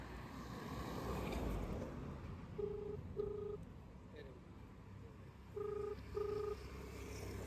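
An unanswered outgoing phone call rings faintly outdoors on a food-delivery rider's route, heard as two paired ringback beeps under wind and traffic noise.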